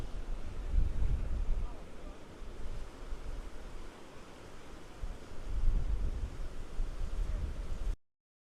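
Wind blows hard at a beach, a steady broadband roar with gusting surges buffeting the microphone and surf noise underneath.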